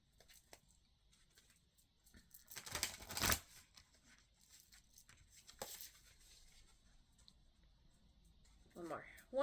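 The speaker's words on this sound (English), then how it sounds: "One more shuffle." A deck of chakra cards is shuffled in two bursts of rapid riffling, with lighter card handling and rustling in between, close and fairly quiet.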